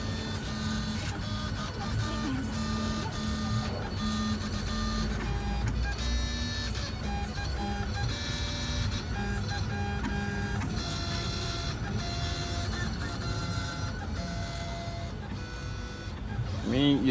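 Jinka PRO 721 cutting plotter running a test cycle with no material loaded, giving a steady mechanical whir with repeated short stepping bursts throughout, with some background talk and music.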